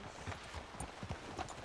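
Hooves of a horse clip-clop in Red Dead Redemption 2, a loose, uneven series of soft thuds at a walking pace amid ambient game sound.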